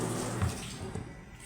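Liquid mixture for homemade fruit ice cream pouring steadily into a container, a soft continuous watery splash lasting a moment, close and fairly quiet with no talk.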